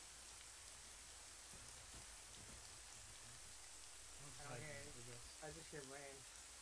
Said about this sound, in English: I just hear rain.